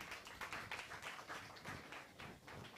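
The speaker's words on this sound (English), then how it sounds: "let's clap for Ojo Amadine" Faint, scattered clapping from a small group at a company orientation session, a soft, uneven patter of hands lasting a few seconds.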